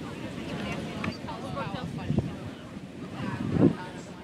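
Wind buffets the microphone at a beach in Seaside Park on the New Jersey shore, with a steady wash of ocean surf and a few louder gusts, while people talk faintly in the background.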